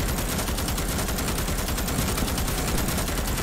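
Dense, unbroken automatic gunfire roars from the sci-fi shooter Starship Troopers: Extermination during a fight against bugs, loud and steady throughout with no voices on top.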